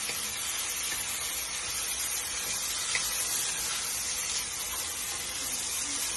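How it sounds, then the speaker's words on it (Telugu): Tomatoes frying in a pan for a home-style Telugu goat sambar give a steady, close hiss and sizzle that runs evenly throughout, with no talking. "టమాటాలు వేసుకోండి. 2 మీడియం సైజు టమాటాలు తీసుకోండి. టమాటాలు ఫ్రై అవ్వాలి."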